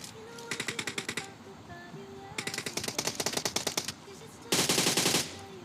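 Automatic weapon fire in PUBG Mobile during a solo-versus-squad fight in Pochinki, with three loud rapid bursts of shots in quick rhythm, the last burst the sharpest, close and alone without talk.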